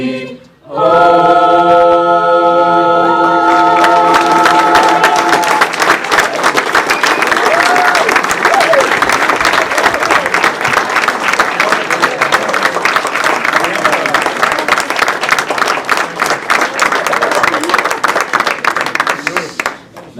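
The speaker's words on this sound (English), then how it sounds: "I want all to once again give these young people a round of applause for being here tonight." A town meeting audience in Clarkstown claps. A brief sung or musical passage opens, then loud, sustained applause from a large crowd fills the room for most of the time, with a few cheers mixed in.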